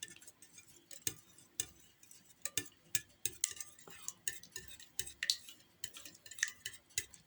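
Quick, light clicking of a utensil against a bowl as a glass of yogurt is stirred briskly and continuously, fairly quiet and close.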